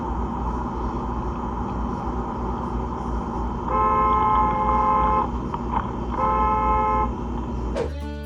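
Car horns honk in two sustained blasts over steady road traffic noise, loud and close, with no talking.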